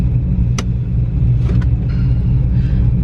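A cammed Chevrolet Camaro with a manual gearbox pulls away in first gear, its engine a deep steady rumble with a couple of brief clicks and knocks over it, close up and without speech.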